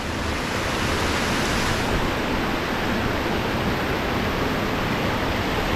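Steady, loud roar of a mountain waterfall pouring into a plunge pool in the White Mountains, a continuous broadband rush of falling water with no pauses and no voices.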